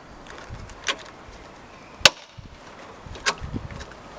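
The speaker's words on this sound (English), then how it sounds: "get the rivet, put it into the bracket and simply rivet it in place" A pop rivet tool fixes a hood tensioner cable into its bracket on a Mazda MX-5 soft top, giving a few sharp, close snaps and clicks spaced unevenly over a quiet background, the loudest one in the middle.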